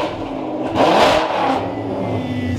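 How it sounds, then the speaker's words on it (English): A supercharged Ford GT MK1 with a catless Fi valvetronic exhaust revs hard, the engine surging to a loud peak then holding a strong raspy roar with supercharger whine, close and alone. "we should be able to hear the supercharger a lot more with that intake"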